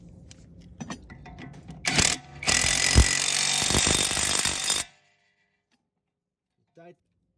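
An impact wrench tightening a nut on a BMW E36 rear trailing arm bushing gives a short rattling burst, then a longer loud hammering run of about two seconds, followed by quiet.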